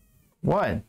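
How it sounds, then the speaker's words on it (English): A house cat gives one loud, drawn-out meow, following a quiet stretch and a short spoken word. "yeah, that's my cat."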